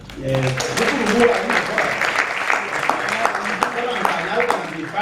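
An audience at a poetry symposium breaks into sustained applause, dense and steady for several seconds, with a voice speaking over it at the start.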